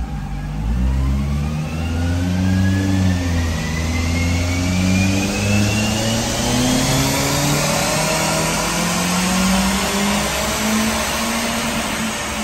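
A Perodua Myvi fitted with a bolt-on turbo revs hard on a dyno, the engine note climbing steadily in pitch throughout. It is loud and close, with a droning exhaust and a rising whine over it.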